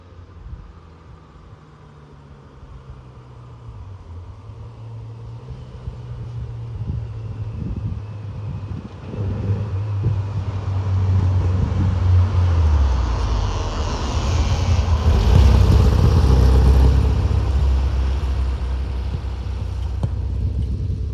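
A 1973 highly modified Volkswagen Karmann Ghia approaches and passes close by, its low engine rumble swelling to a loud roar, then holding steady as it moves along.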